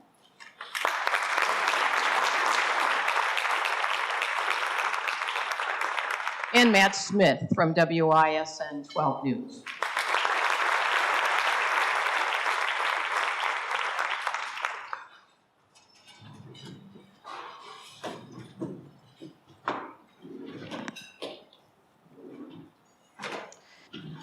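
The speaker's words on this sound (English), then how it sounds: "Yeah, you can applaud." Audience applause greets panelists being introduced at a Milwaukee newsmaker luncheon: sustained clapping in two long bursts with a brief break, then a host keeps talking over a quieter room.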